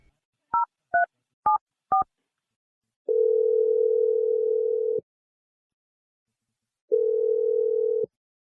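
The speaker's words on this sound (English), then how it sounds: "I'm dialing his number right now." Telephone keypad dialing: four short DTMF button tones in quick succession, then two long steady ringback tones separated by a pause, clear and alone with no talking.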